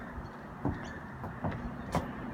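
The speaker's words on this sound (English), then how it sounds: "You do get a little bit of traffic noise." Road traffic passes in the distance outside a house, heard as a faint, continuous low rumble with a few soft swells and light thuds nearby, and no one talking.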